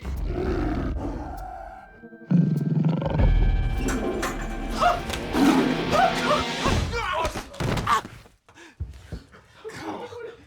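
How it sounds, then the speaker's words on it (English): A tiger in a bathroom, from the film The Hangover, lets out a loud, drawn-out roar lasting several seconds after a brief lower growl. Heavy thuds and bangs follow, then the sound fades. "Phil, there is a tiger in the bathroom"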